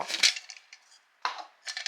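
Dairy Queen DIY plastic cup being tapped, giving a few light, crisp plastic clicks and rattles in short bursts with brief pauses between, close and quiet, with no voices.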